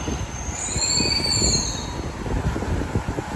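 A Delhi Metro train running, heard from inside the ladies' coach: a steady, loud rumble of wheels on rail with long, high metallic squeals rising and fading throughout, and no talk.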